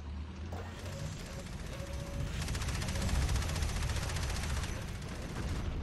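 Tank cannons and guns in the Tanki Online video game fire in rapid, dense bursts, loud and continuous through most of the stretch amid rumbling battle noise.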